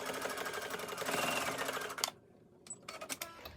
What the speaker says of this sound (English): So just sew a straight line down